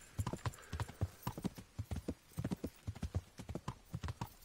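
A horse in Kingdom Come: Deliverance trots along with steady clip-clop hoofbeats, close and rhythmic, each thudding step clearly separated throughout.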